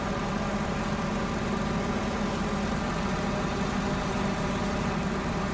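A heavy truck engine in the video game SnowRunner drones at a steady low rumble, laboring and bogging down continuously without pause or voices.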